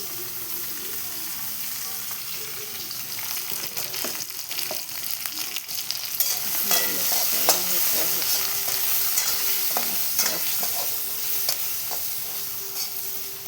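Tomatoes sizzle in hot spiced oil on a wood-fired stove, with a steady frying hiss and occasional scraping from a spoon stirring the pan, close and alone without talk.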